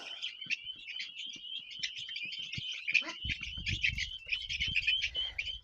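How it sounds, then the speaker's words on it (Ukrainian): A small bird chirps rapidly and continuously, high-pitched tweets close by, with some low rustling and handling noise in the second half. "От пташка."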